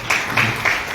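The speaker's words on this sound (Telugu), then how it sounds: "అందరూ క్లాప్స్" Wedding guests clapping at a ceremony in Vishakhapatnam, a short burst of three quick claps, close and fairly loud, alone.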